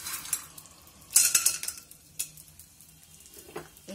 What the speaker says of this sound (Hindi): घी गरम हो गया है तो सबसे पहले इसमें ये गोंद हम डालेंगे